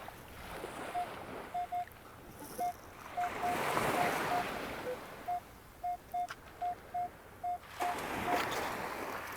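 Metal detector at the water's edge on a beach, giving a series of short, evenly pitched beeping signal tones in bursts, heard over wind and crashing surf.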